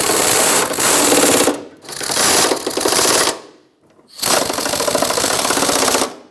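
A power tool snugs up the fuel tank bolts on a 2012-2017 Toyota Camry, three loud rattling bursts of a few seconds each separated by short pauses.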